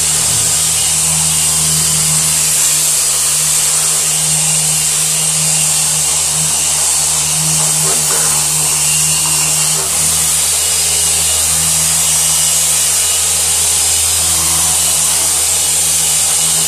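A power sander fitted with new 80-grit paper works over a mower, producing a loud, continuous buzzing drone with a steady low hum underneath that runs without pause from start to finish.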